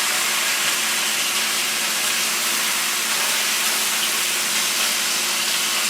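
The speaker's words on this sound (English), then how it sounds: "as you can see it's sizzling, so I'm going to put the rest of the meat in" Trimmed beef chuck sizzles in a hot pot: a loud, steady, broadband hiss that holds evenly throughout without pause, with no voices.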